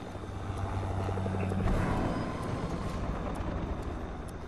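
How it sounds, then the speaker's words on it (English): Helicopter in the game Fortnite, a steady low rotor drone with a broad engine hum that swells slightly and holds, continuous and fairly close, with no voices. "Helicopter inbound."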